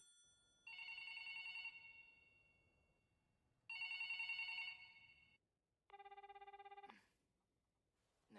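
A telephone rings in a video game in three separate electronic bursts, the first two long trilling rings and a shorter, lower-toned one, loud and clear over a faint hum, with no talking.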